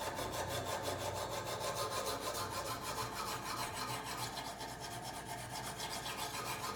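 A knife is drawn back and forth against a stone on a Kazak UBR sharpening system, with rhythmic, close rasping strokes repeating steadily without talk.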